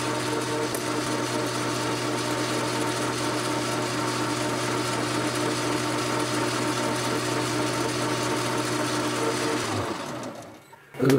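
A lathe centre-drills an aluminium bar with an even, sustained motor hum and faint cutting whir close by, which winds down and stops just before the end.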